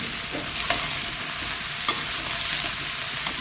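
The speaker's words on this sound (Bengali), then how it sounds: "চিকেনটা ভাজা ভাজা মতন করতে হবে" Potatoes and chicken frying in a pan give a steady, close sizzle, with a few sharp stirring scrapes now and then and no voices.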